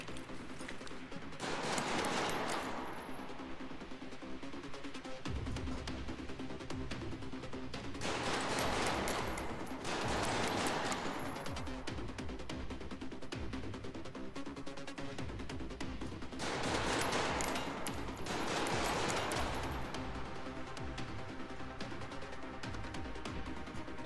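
Gunfire in Resident Evil Requiem during a Leon chapter set in the RPD, with repeated bursts of shots coming in clusters over a constant backdrop of game sound.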